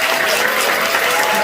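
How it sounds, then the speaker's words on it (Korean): A church congregation at a new sanctuary dedication service claps loudly and continuously, a dense, even wash of applause filling the room without pause. "우리 박수로 크게 한번"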